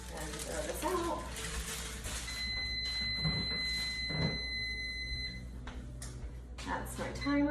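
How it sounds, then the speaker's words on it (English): A kitchen timer goes off while tempeh bacon is being cooked: a steady high electronic beep holds for about three seconds amid kitchen clatter and running water. "That's my timer."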